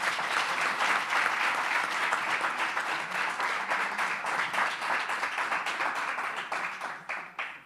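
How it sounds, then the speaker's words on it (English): Sustained audience applause at a community dialogue event, a dense wash of many hands clapping steadily for several seconds before gradually thinning out toward the end. "Please give her a round of applause."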